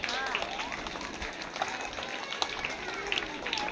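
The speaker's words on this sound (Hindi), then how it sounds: "बच्चों तालियां बजती रहनी चाहिए" Children applaud during a Children's Day celebration at a public school, a busy, continuous wash of clapping from a crowd with voices and chatter underneath.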